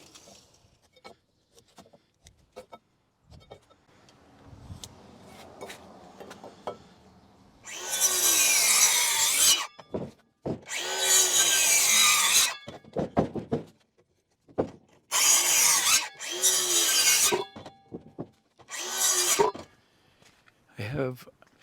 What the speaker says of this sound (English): 2 4x4s. Going to cut these at 13 feet.